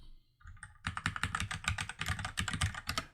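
Rapid keystrokes on a computer keyboard, a brisk irregular clatter of close, crisp clicks that starts after a brief quiet moment and continues steadily throughout.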